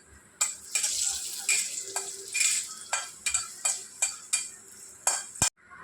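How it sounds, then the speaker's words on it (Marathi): Dates frying in ghee for immunity-booster ladoos give a bright, steady sizzle, broken by regular rhythmic scrapes and clinks of a spoon stirring the pan, close and without voices. "आता हे जे तूप आहे याच्यातच आपल्याला खजूर तळून घ्यायचे"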